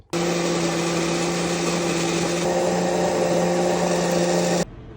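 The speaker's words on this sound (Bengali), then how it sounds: "তো আমি এখন এইটা দিয়ে ব্লেন্ড করে নিব।" An electric blender grinding dried chillies, Chinese and local varieties, runs loud and steady with a strong motor whine, switching on abruptly and cutting off near the end.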